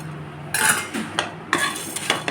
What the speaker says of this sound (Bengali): এক চামচ জিরে এক চামচ মৌরি আর এক চামচ ধনে এটা আমি একটু ভেজে নেব